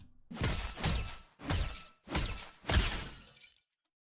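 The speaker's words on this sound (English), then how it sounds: "We're going to go ahead and hit him until his shield breaks" Bash Burner pickaxe swings in Fortnite striking a bot until its shield breaks: four loud, crunchy shattering impacts in steady succession, each a glassy burst with a swooshing edge, ending abruptly.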